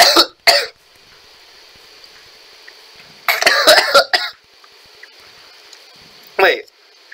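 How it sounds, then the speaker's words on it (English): A person coughs several times in short bursts while playing a Minecraft survival game, with a couple of single coughs at the start and a final one near the end, close and fairly loud over a quiet background. "I'm so sorry for my cough."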